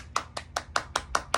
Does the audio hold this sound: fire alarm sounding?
no